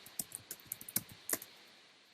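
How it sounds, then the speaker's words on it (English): Quick, light taps from a computer keyboard come in an uneven burst of close clicks, with short pauses and a few sharper keystrokes, and no voices. "I'm just going to start typing any content that I want to put in here"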